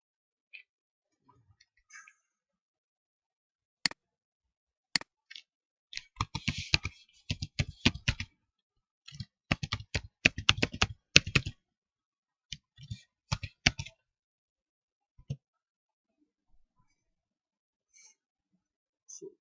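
Keys clattering on a computer keyboard in quick bursts of typing separated by pauses, with sparse isolated clicks before and after, close and fairly faint with no voices.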